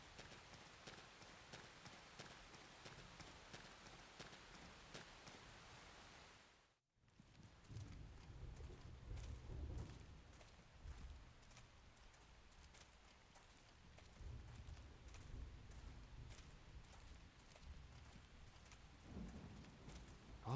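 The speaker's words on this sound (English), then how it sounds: "Oh, the storm's letting up." Rain and a thunderstorm in the video game Xenoblade Chronicles X, a faint, steady wash of rainfall with low rumbles of thunder after a brief gap, quiet throughout.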